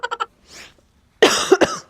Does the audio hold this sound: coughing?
yes